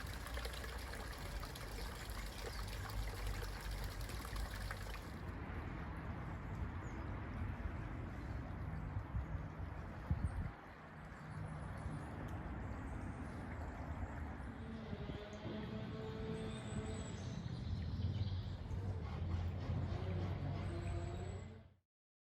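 The Dolis Brook, a small urban stream near Finchley in London, flows with a steady, soft wash of water that continues quietly throughout, with a gentle shift in tone partway through.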